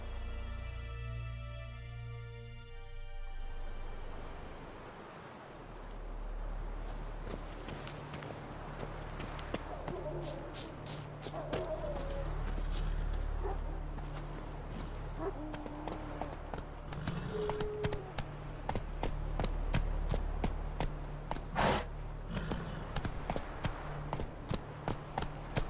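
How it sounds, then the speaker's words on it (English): Horse hooves clip-clopping steadily in The Witcher 3: Wild Hunt video game, a continuous rhythmic trot that stays moderately close throughout, with game ambience underneath and a brief voice near the start. "Not so fast, Roach."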